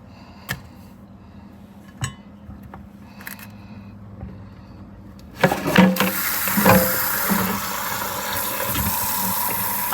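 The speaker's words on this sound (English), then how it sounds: "I'm going to go ahead and fill my pot with water" Tap water runs steadily into a cooking pot on a home kitchen counter, a sudden rushing stream starting midway after a few light clinks, filling continuously and close by.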